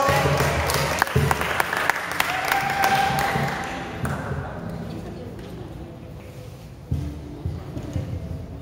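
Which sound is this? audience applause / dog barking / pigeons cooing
audience applause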